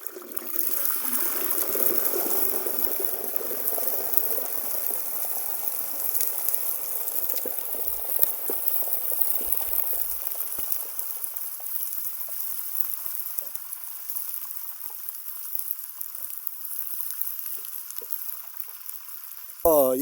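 A turkey goes slowly down into hot frying oil at around 350 degrees, setting off a loud rushing bubble and hiss that stays strong and gradually settles into a steady seething fry.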